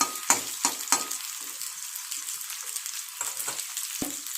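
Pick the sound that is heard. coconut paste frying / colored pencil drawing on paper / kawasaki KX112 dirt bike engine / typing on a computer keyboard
coconut paste frying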